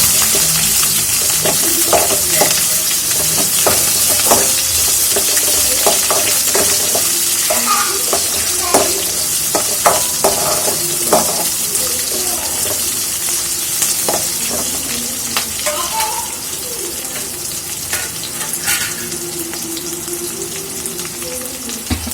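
Chopped onion sizzles in hot oil in a pan alongside chana dal, curry leaves and chili for rava upma. A constant loud frying hiss runs throughout, broken by clicks and scrapes of stirring.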